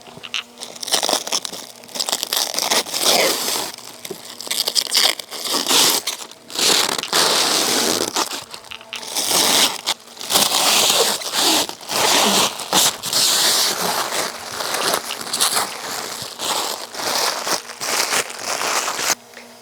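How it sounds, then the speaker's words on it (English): Protective plastic film is peeled off a newly installed Dometic FreshJet 7 Series Plus caravan air conditioner on a bus, giving close, loud bursts of crackling and tearing that come in irregular strokes with brief pauses between them. "arguably one of the most satisfying parts of an install is taking off this plastic"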